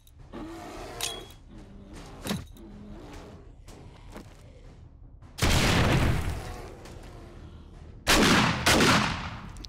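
Gunfire bursts in the zombie survival game 7 Days to Die as bears are shot: two loud, broadband volleys of shots, one lasting about three seconds and a shorter one later, after quieter game ambience and scattered thuds.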